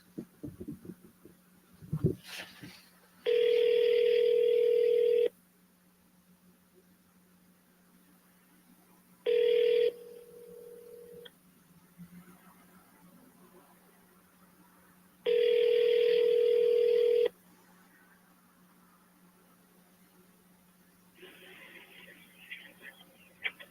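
An outgoing phone call rings unanswered, sounding three long electronic ring tones with a shorter burst between them, clear and prominent over quiet handling noises, with brief faint talk.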